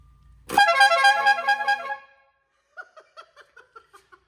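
A loud, brassy Maserati triple trumpet air horn on a 1969 Mercury Cougar XR7 convertible blares for about a second and a half, then cuts off, followed by soft chuckling.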